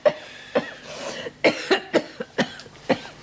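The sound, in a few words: cough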